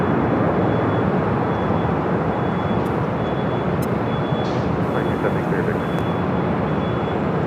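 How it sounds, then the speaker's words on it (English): A Frontier Airbus A320 jet arrives at LAX, a loud, steady broadband roar of engines filling the whole stretch, with brief faint background chirps over the top. "Next is that Frontier A320 coming in from Phoenix."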